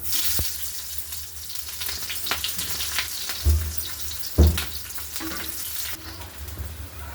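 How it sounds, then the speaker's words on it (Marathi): Onion being roasted in a pan for a masala, low sizzling with scattered stirring scrapes and a couple of heavier knocks, moderately close and steady, with no talk. "आता याच्यामध्ये कांदा भाजून घ्या"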